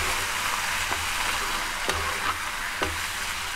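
Onions sizzle steadily in hot oil in a pan as boiled colocasia (taro) and chickpeas go in, a continuous close fry broken by a few soft clicks and taps of a spoon.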